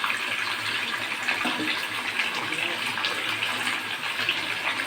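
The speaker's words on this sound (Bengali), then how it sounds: "একটু জল দিলাম" Water pours steadily into a pan of chicken frying in sunflower oil, a continuous gushing hiss that stays even throughout.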